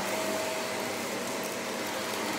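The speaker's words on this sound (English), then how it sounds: "vacuum all the dust" A vacuum cleaner runs steadily and loudly, sucking dust from around reclining leather chairs in a living room, with a continuous whooshing roar and no talk.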